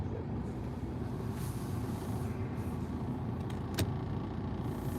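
Continuous road traffic rumbles by at moderate distance, a steady wash of vehicle noise with a brief sharp click near the end.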